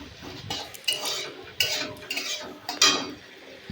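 A spoon stirs tomato with ginger garlic paste in a pan, giving close, irregular scrapes and clinks of metal against cookware, with no voices.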